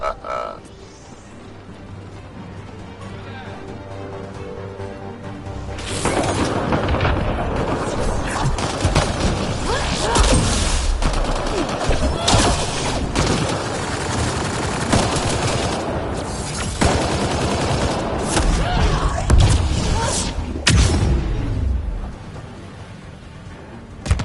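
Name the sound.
gunfire from the video game Mass Effect Andromeda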